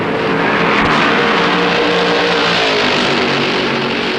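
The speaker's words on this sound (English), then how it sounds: "The leaders are sweeping past the slowest cars in the field" Stock race cars from 1964 roar around Darlington's oval, a dense, continuous wall of loud engine noise as the leaders sweep past slower cars, with no voices.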